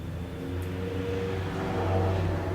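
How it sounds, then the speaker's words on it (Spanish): A car passing by outside, a steady low engine hum and road rumble swelling slightly toward the end, moderately loud and without talk. "Otro carro."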